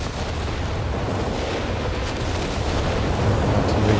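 British 17-pounder anti-tank guns fire in Company of Heroes 3 against a continuous rumbling battlefield. Explosions and cannon blasts blur into a steady, dense roar with no distinct separate shots.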